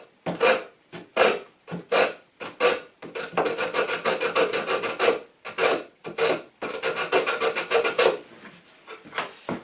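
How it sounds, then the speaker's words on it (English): Hand sanding a wooden table rail during a broken table leg repair: steady rasping strokes of abrasive on wood, close and fairly loud, in quick repeated bursts with short pauses and a longer run of continuous rubbing. "Just needed a tiny bit of sanding on that rail there."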